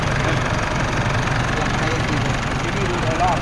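A four-door Isuzu Hi-Lander engine idles with a steady, close mid-low chug, continuous and fairly loud throughout the short stretch.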